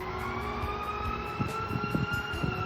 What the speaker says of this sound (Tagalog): bigla na nga lang umalingaw-ngaw ang tunog ng mga bumbero